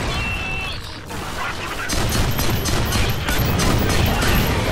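Rapid bursts of video game gunshots in the game Fracture crackle loudly in quick succession, with a brief lull before more shots fire in a sharp, repeated volley.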